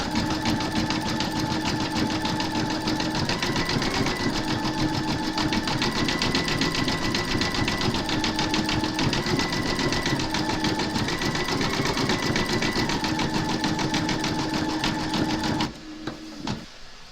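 A sewing machine zigzag-stitches raw edges around candy cane appliqués, a steady, close mechanical whir with a fast rhythmic needle pulse running unbroken for about fifteen seconds before stopping.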